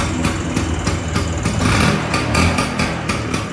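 A scooter engine running at a steady idle, close and fairly loud with a continuous low putter throughout and no talking.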